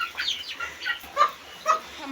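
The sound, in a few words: chickens clucking while being moved in the rain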